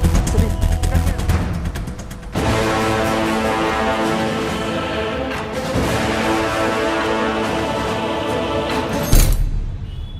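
Rapid gunfire rattles through a gang war shootout in a Hindi crime film set in Gurgaon, bursts layered over a loud, dense score and effects, with a sharp crack near the end.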